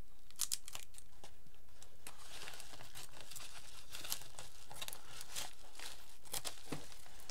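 Scissors cut open a mailed envelope, a series of close, crisp snips and papery crinkles and rustles in an uneven rhythm, with no talk.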